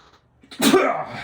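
A single sharp sneeze bursts out close by after a quiet moment, with a breathy tail.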